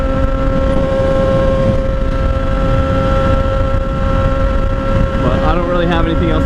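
An Indian Scout 60 motorcycle cruises along with a loud, steady engine drone under heavy wind rush from riding, continuous for over six seconds, with the rider talking briefly near the end.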